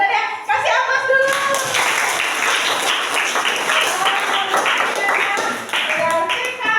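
A classroom of students claps in sustained applause, a dense patter of hands at steady loudness, with a few voices calling out over it.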